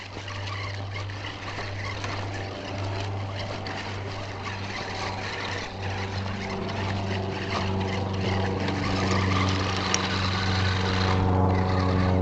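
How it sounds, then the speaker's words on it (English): A propeller airplane drones overhead near where a WLtoys 12428 budget RC trail buggy is being driven outdoors. Its steady engine hum holds a strong low tone and swells slightly louder toward the end, with no talk. "Got a freaking airplane over here."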